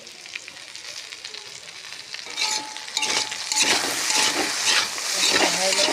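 Potatoes fry in a pan with a steady crackling sizzle that grows louder and busier midway, with occasional scraping bursts from stirring in a home kitchen.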